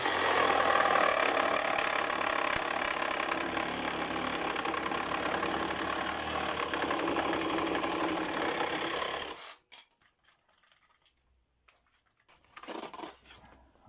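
Ryobi reciprocating saw with a fine-tooth blade cutting steadily, a loud buzzing rattle with rapid vibration for about nine seconds, then abruptly stopping, followed by quiet and a few short handling noises.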